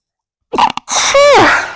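A single loud sneeze with a sharp intake of breath, followed by a drawn-out, sighing yawn, close to the listener.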